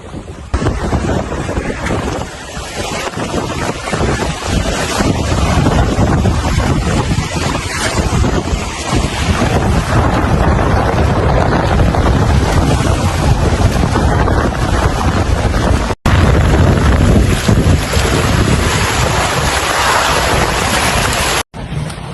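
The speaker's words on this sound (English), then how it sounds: "Wind strengthened maybe 25 knots now, gusting 30." Strong wind gusts roar across a sailboat at sea near Cocos Keeling, buffeting the microphone with a loud, continuous rush over the churn of waves and water, without any speech.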